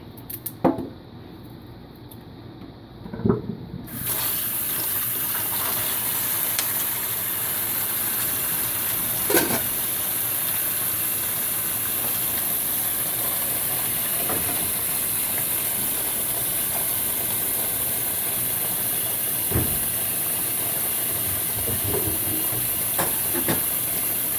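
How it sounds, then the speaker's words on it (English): Hot water pours steadily from a kitchen tap during preparation of a cabbage and carrot stew, starting a few seconds in as a constant close hiss after some faint clatter and continuing unbroken to the end. "So this is hot water that is running right now."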